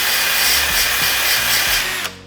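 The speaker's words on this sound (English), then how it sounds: "for one of your drills, you'll also want a wire wheel, because this is gonna help expose spot welds" Drill with a wire wheel grinding paint off spot welds on a smashed Subaru STI body panel, a loud continuous abrasive whir at close range that cuts off at the end.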